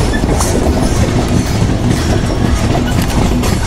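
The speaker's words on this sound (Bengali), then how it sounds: "টেকনিক্যাল স্টপেজ সম্পূর্ণ হলে আমাদের ট্রেন প্রবেশ করবে যমুনা বহুমুখী সেতুতে" Padma Express intercity train in motion on the approach to the Jamuna multipurpose bridge, heard from inside a middle coach as a steady, loud rumble with rhythmic wheel clatter on the rails throughout.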